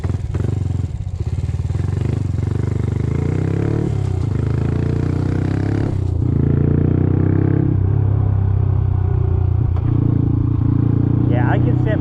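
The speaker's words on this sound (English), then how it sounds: "just listen to that engine set there and idle" A Honda CT motorcycle engine rumbles loud and close at a low, steady idle with slight surges, while someone talks over it.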